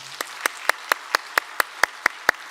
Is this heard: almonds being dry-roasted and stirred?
no